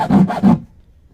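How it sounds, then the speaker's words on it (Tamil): A bare hacksaw blade held in the hand rasps through a used plastic can in three quick, close strokes, then the sound cuts off. "நான் இப்போதைக்கு பிளேடு ரொம்ப குட்டியாயிருச்சுனால புது பிளேடை வச்சு கட் பண்ணி காமிக்கிறேன்."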